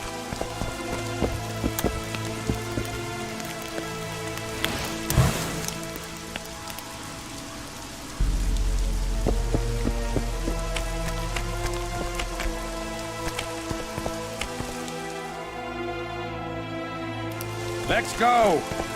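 Steady rain pouring down in The Witcher 2: Assassins of Kings, a constant hiss of drops beneath game music and characters talking.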